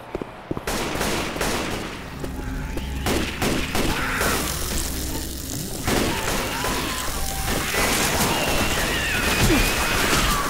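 Dense, continuous gunfire from the zombie shooter game Left 4 Dead 2, rapid overlapping shots and bursts with occasional booms and crashes, loud and sustained throughout, with brief bits of voice.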